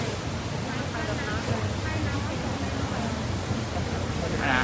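Water gushes through a damaged flood levee at Ban Samrong, Maha Sarakham, a constant heavy rushing roar with faint voices briefly audible beneath it.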